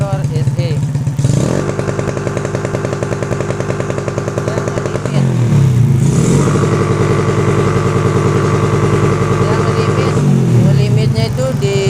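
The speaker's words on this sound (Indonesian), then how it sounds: "Jadi suara motornya saat digeber udah kayak motor SE." A Honda C70 motorcycle with a racing CDI revs hard and holds against its 6000 rpm rev limiter, a loud, stuttering buzz, easing briefly before revving up again twice.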